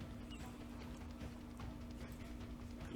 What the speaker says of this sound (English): somebody kind of run out and hop on one of the horses and just take off galloping